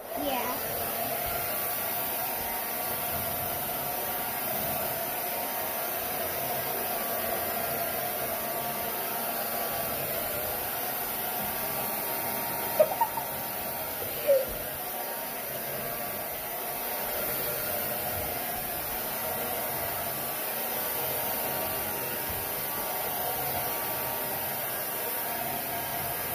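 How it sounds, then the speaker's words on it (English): Hair dryer blowing steadily on long hair, a continuous loud broadband whoosh with faint hum, running throughout with brief soft sounds. "So, now he's blowing drying my hair."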